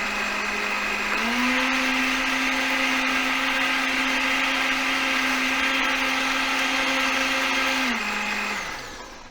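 A kitchen blender runs with a paper towel standing in for its lid, revving up to a loud steady whir for several seconds before winding down and stopping.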